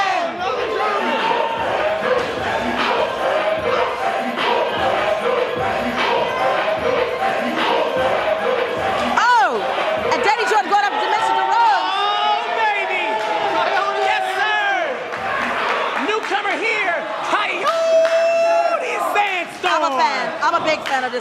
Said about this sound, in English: listen to this crowd that we have here live